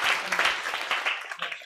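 A lecture audience applauds a student, with a brief burst of clapping that rises, dips and swells again over a couple of seconds, partly mixed with voices.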